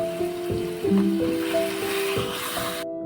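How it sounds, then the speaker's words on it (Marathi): A ground onion masala paste fries in oil with a steady close hiss and soft spattering, under a sustained humming tone. "आता हे मसाला आपण बारीक केलेला हे यामध्ये टाकून असं भाजून घेऊया. तेल सुटेपर्यंत हे मसाला वाटून घेतलेला."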